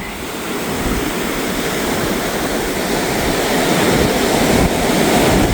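Ocean waves pound a beach in hurricane-force winds, a dense, continuous roar of surf and spray rising slightly over several seconds, with wind buffeting the microphone and no voices.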